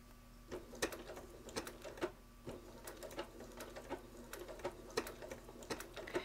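A sewing machine stitches a quilt block in short uneven runs of fast needle ticking and clicks, quiet and close, with brief pauses between bursts.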